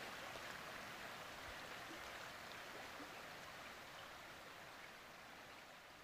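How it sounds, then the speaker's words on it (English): Crystal-clear stream, roughly 6-10 feet deep, in Florida, flowing steadily with a soft continuous broadband rush and trickle, alone and unbroken for the whole stretch, fairly faint and slightly fading toward the end. "Just walking along the stream, and it is crystal clear water."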